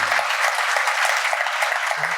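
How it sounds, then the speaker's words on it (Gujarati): An audience claps steadily for two families at a spiritual gathering, a dense, even patter of many hands sustained throughout, with a brief low voice sound at the very start and end. "મુક્તો આ બંને પરિવારોને આપણે તાળીથી વધાવીએ"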